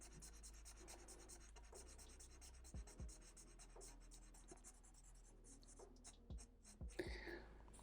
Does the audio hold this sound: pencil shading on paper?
yes